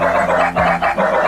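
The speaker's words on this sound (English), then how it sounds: "what's a dog without some barking?" Dog barking in the Dreams video game: three rhythmic bark-like bursts over a steady musical or ambient background, fairly loud and close.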